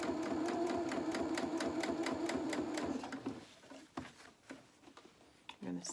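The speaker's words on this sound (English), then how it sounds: "I'm going to sew straight over the front where the seam allowance is." Sewing machine stitching a seam across the front of small doll boxer shorts, a rapid steady rhythmic whir for about three seconds, then stopping into quieter handling clicks and rustles.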